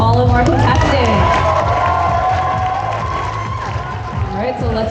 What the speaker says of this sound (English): Can we get one more big round of applause for all of our contestants?